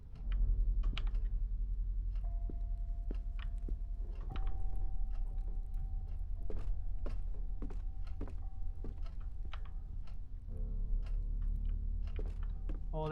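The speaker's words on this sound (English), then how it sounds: "Old ass typewriter." In the horror video game Song of Horror, an old typewriter clacks in a quick, irregular run of key strikes for several seconds over a faint steady hum.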